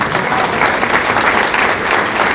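A summit audience claps together in a sustained, dense round of applause, loud and even throughout with no talk over it.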